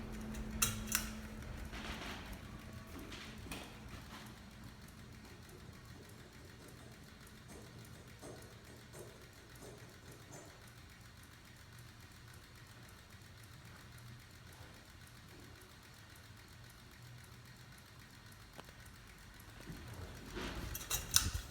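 A Harbor Breeze Armitage 52-inch low-profile ceiling fan runs on medium, giving a faint steady motor hum with slight rubbing noise, as if wires brush the motor, plus a few louder clunks at the start and end.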